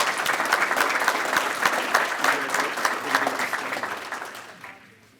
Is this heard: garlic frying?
no